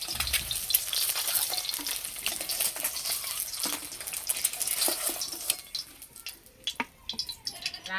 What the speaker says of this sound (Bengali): ঠিক এইরকম করে ভেজে নিতে হবে।